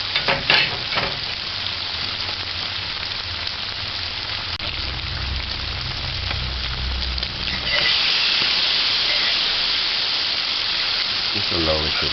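Conch meat frying in a pot of hot oil for a curry, a loud steady sizzle with stirring scrapes early on, the hiss growing brighter and more intense partway through.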